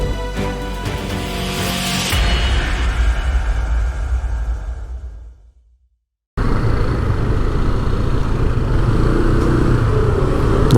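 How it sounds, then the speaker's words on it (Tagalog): Heavy trucks and dense street traffic on Ronquillo Street in Binondo, Manila's Chinatown, rumble steadily up close, fading briefly into near silence before the engine roar resumes at full loudness with no talk. "Daming mga truck dito."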